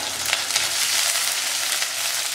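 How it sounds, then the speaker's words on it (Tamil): Shallots frying in hot oil for eggplant curry, a loud, steady close-up sizzle with constant crackle and no voices. "பாருங்கள் ஆனியன்ஸ் நல்லா ஃப்ரை ஆயிடுச்சா"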